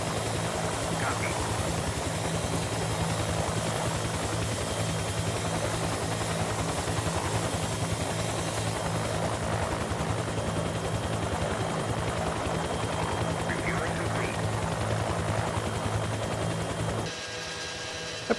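Huey helicopter rotor and engine drone in the video game Arma, a steady loud thrum running throughout with faint chatter and no distinct gunfire bursts evident, cutting off abruptly near the end.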